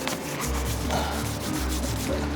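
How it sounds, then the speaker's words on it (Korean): Rubber sandpaper rubbed over the white painted body of a Hummer H2, a continuous close scrubbing with a low steady hum underneath and no talk. "고무 사포를 이용해서 작업을 해줍니다"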